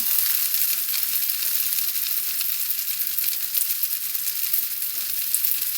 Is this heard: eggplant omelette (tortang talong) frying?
yes